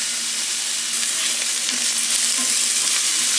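Peppers sizzle and fry in hot oil in a pan while being prepared for Korean bibimbap, a steady close crackle with occasional stirring clatter and no voices.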